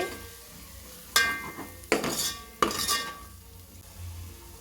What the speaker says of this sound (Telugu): బిర్యానీ మసాలా అండి వన్ స్పూన్ అండి బాగా కలపాలి